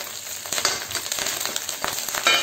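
Curry leaves dropped into a garlic, ginger and green chili masala, frying with a steady close crackling sizzle and a few sharper pops.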